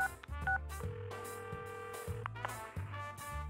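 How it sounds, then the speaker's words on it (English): A phone number is dialed as a short run of clear electronic tones, played over steady background music with a low, rhythmic bass line. "I dial Yosuke-kun's number."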